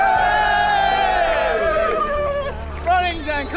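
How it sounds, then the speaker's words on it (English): A group of people cheer and whoop together for a camera inside Heathrow Airport, a loud close crowd with overlapping voices and chatter throughout. "All right, everyone, big cheer!"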